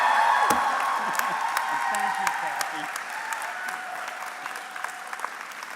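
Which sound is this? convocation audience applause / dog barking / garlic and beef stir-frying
convocation audience applause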